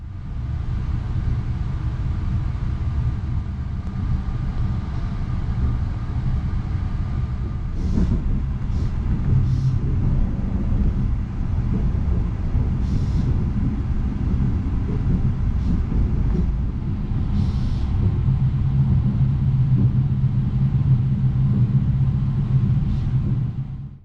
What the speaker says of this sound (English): While these Talgo coaches are really quite noisy, even at these sorts of speeds I found the ride quality to be nice and smooth